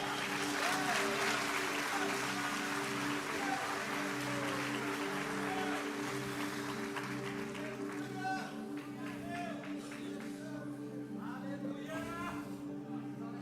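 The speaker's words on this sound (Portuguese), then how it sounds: "aplauda o nome do Senhor" A church congregation applauds during a worship service, dense steady clapping filling the room with sustained musical tones underneath, and voices rise over it later.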